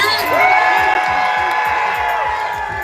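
An outdoor rally crowd in Washington, DC cheers, whoops and claps in a loud, steady roar, with voices swooping up and down across the noise.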